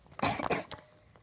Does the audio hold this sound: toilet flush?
no